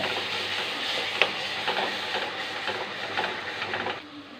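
Kitchen mixer grinder whirring steadily while blending tomatoes, a close, continuous motorized buzz with faint rattling that runs for a few seconds and then cuts off.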